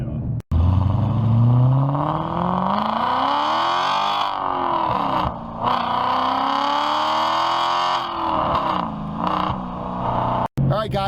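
Audi RS4 wagon's naturally aspirated V8 revving loud and close, the pitch sweeping up and down through several surges over about eleven seconds with two brief cuts, drowning out any talk.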